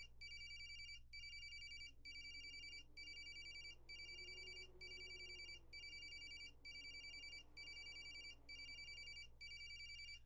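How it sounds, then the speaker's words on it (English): A phone ringtone in the Corpse Party remake horror game rings in a steady repeating pattern of bright electronic bursts over a low constant hum, loud and without speech for about ten seconds. "There's no message telling me who's calling either. Just a ringtone."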